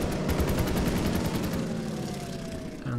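Rapid bursts of gunfire from the strategy wargame Order of Battle, a fast rhythmic volley of shots for about a second and a half, then a lower rumbling tail fading away, loud and alone.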